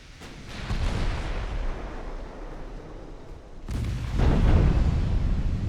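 Booming torpedo hits on warships in a 1904-era naval battle game near Gibraltar, a dense rumbling barrage of explosions that swells louder partway through, with no talking.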